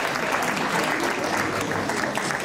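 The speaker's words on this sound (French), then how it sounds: "Applaudissez pour ce couple," Guests at Charlène and Rostand's wedding dance party in Villers-Saint-Paul applaud the couple. Steady, dense clapping from a crowd fills the room, loud and continuous throughout.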